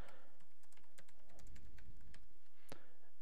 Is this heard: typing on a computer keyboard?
yes